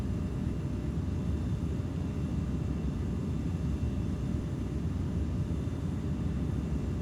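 A jet in the Falcon BMS flight simulator, throttle at idle and speed brake out, gives a continuous low roaring rumble with airflow noise, steady and even with no talk.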